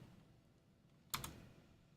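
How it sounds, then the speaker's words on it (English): A cat steps across a computer keyboard, producing a quick double clatter of keys against a quiet room background. "It's a real bad habit of stepping on the keyboard."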